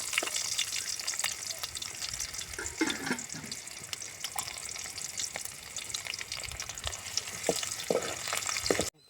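Chopped onions along with mustard and cumin seeds fry in hot oil, producing a continuous close crackling sizzle scattered with sharp pops and occasional stirring clatter, without any speech.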